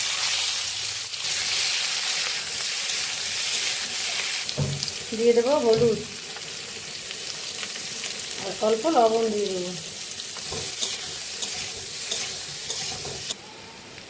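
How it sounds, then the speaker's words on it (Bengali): Potatoes fry in oil in a wok with a steady sizzle and frequent stirring scrapes. Someone speaks briefly twice over the frying. "ওই তেলেই আমি আলুগুলো ভেজে নেব"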